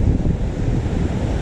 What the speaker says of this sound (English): All right, it's really windy down here today.